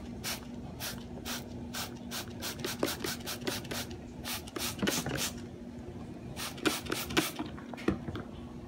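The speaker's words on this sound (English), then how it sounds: "I like to use a Q-tip to really clean out the inside of the port" Cotton swab scrubbing inside a laptop port moistened with Windex, a series of short, close scratchy rubbing strokes in an irregular rhythm over faint background hum.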